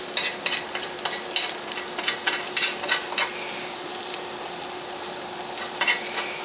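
Food sizzles steadily in a breakfast pan greased with bacon fat, a close, continuous crackling hiss broken by occasional scraping stirs.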